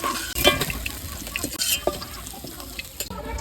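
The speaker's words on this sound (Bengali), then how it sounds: "একেবারে লাল লাল করে ভেজে নিচ্ছি" Fish frying in a pan until deep red for a Bengali village fish curry: a busy, close crackle of oil with scattered clicks and scraping stirs, fairly steady throughout.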